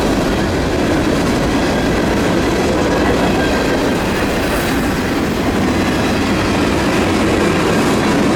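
A Norfolk Southern freight train led by an SD70ACE locomotive rumbles past close by in Cove City, North Carolina, loud and continuous, with rattling wagons and rhythmic clacking wheels throughout.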